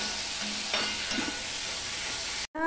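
Tomato masala with ginger paste sizzles in a pan under steady stirring, with a continuous close frying hiss, then a brief cut near the end.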